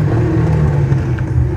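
A stunt car at a Hell Drivers show in Le Guilvinec creeps forward slowly on tarmac while trying to balance on two wheels, its engine a loud, close, steady rumbling drone with a faint whir.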